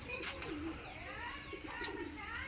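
Pigeons coo softly and briefly at a distance while a voice talks faintly underneath.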